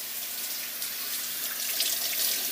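Asparagus rinsed under a running kitchen tap, a steady hiss of flowing water splashing into a sink, close and continuous with slight swells, no voices.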